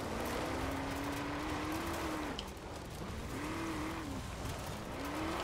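A TVR sports car drifting in the Forza Horizon 4 racing game, its tires squealing in several drawn-out, wavering whines over a constant loud engine roar, close up.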